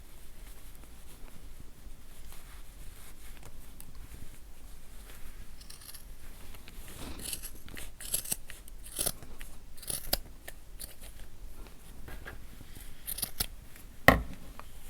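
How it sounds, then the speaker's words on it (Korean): Scissors trim the yarn ends of a handmade tassel in quiet surroundings, with soft snips and rustling that grow busier halfway through and end in one sharp, louder cut. "끝에 나오는 길이 여기로 다 잘라주세요"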